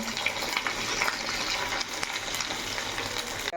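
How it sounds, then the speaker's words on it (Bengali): Pieces of food fried one at a time in hot oil, giving a dense, continuous, fairly loud sizzle that barely changes throughout, with no talking. "একটা একটা করে ছেড়ে দিচ্ছি, তাকে ভেজে নেব ভালো করে।"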